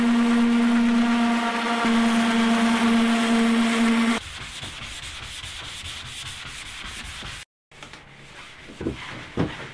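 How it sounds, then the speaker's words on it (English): A palm sander works over the gelcoat of a fiberglass canoe during a crack repair, first as a loud steady whine, then dropping to a lower, rougher sanding rasp with a brief cut and a few knocks near the end. "You're just kind of letting it float over because you don't want to put too much weight into one area"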